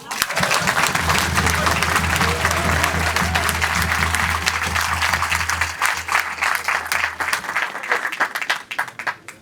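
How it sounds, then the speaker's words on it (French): An audience gives sustained, dense applause for a newly introduced band canteen keeper, loud and continuous, thinning a little toward the end, with some voices in the crowd beneath it. "on peut l'applaudir"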